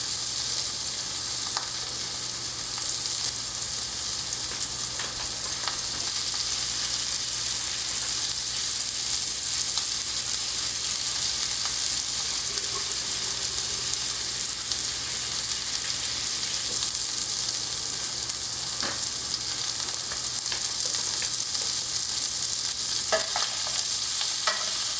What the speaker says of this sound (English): Now that my sausage is good and brown